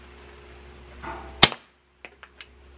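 A single sharp, fairly quiet shot from a Beretta Bobcat Model 21A pistol firing subsonic rounds into dirt, followed by a short tail and several faint clicks and taps.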